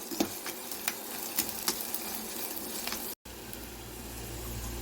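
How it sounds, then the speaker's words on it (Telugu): Onions frying in a pan with a little salt make a steady, fairly quiet sizzle, with a few light stirring clicks and taps on top and a brief dropout near the end. "ఇప్పుడు ఈ ఆనియన్స్ అయితే బాగా ఫ్రై అవ్వాలండి"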